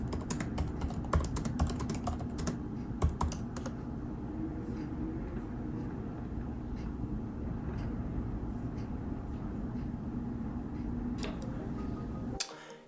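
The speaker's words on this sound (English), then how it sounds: "so I type up a basic synopsis" Keys clatter on a computer keyboard while typing up a short synopsis for a play, dense irregular tapping at first that thins to scattered clicks over a steady low rumble, with a final loud click near the end.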